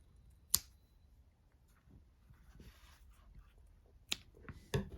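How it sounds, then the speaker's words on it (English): Scissors snip the yarn tails on a crocheted amigurumi toy, three sharp isolated clicks spread over a quiet, faint room background. "I'm just going to cut those yarn tails."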